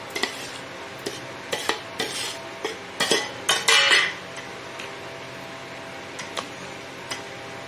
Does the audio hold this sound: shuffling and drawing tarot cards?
no